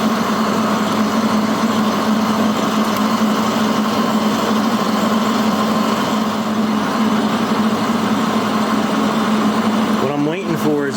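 Wire feed rollers on a Hobart Handler 140 welder pull flux core wire through the feeder. A steady motor whir and hum runs without a break, with a short clatter near the end.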